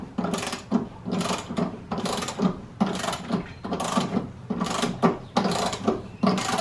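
A torque wrench ratchets on the lug nuts of a Jeep JL Wrangler wheel fitted with 26-inch rims. It gives repeated loud, close bursts of rapid clicking with short pauses between strokes, and a single brief voice is heard.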